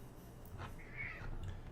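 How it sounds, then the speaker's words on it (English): Cat meowing at a door, a single faint drawn-out meow heard at a distance against a quiet indoor room background. "I think my cat's meowing at my door"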